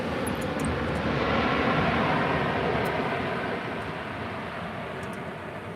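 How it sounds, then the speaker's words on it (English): A DHL Boeing 767-300 freighter, twenty years old, comes in to land at LAX, its broad jet-engine roar steady and distant, slowly easing in loudness. "That is DHL flight 880 coming in from Cincinnati."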